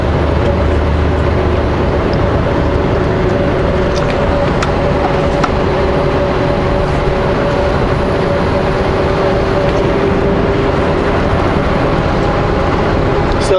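A car rolls slowly along a winter road in steady, loud cabin noise, a continuous rumble of tires and engine with a faint hum and no breaks.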